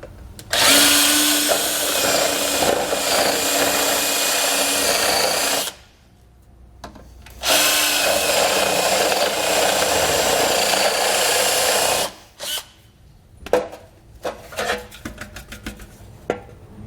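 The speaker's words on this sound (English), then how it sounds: "we're going to use those as guides to drill out a small hole, about 5/8 of an inch" Power drill boring holes of about 5/8 inch through the heat shield of a 2021 Subaru Forester during a trailer hitch install: two long, loud, steady whining drill runs with a pause between, then short bursts and clatter at the end.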